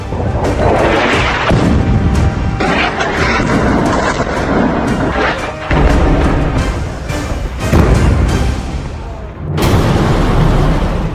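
War bombardment with heavy explosions and artillery fire, a dense, continuous roar of blasts and booms that stays loud throughout, with a sharp fresh burst near the end.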